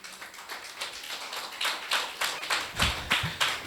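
A church congregation applauds, scattered, uneven claps and taps in a sparse rhythm that grows slightly denser and sharper toward the end, fairly quiet and with no voices.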